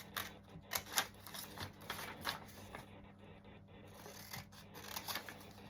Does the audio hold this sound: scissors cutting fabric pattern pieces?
yes